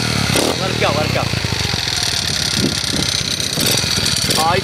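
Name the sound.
Kawasaki KLX 110 dirt bike engine revving, run without oil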